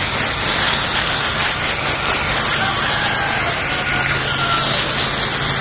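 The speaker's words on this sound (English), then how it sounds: "So that's a pretty hard spray because I really want to get in there." A hard, steady spray of water from a hose onto a horse hisses continuously at close range, loud and unbroken throughout.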